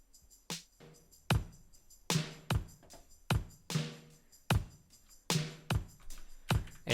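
Drum pattern with tambourine in a home-made song, steady beats with crisp tambourine jingles, clear and rhythmic, with no voices.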